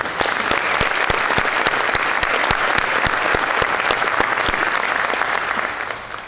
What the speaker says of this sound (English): I think that they deserve a round of applause